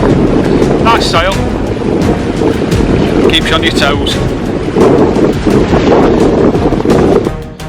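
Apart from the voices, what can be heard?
gusting wind and choppy sea on a sailboat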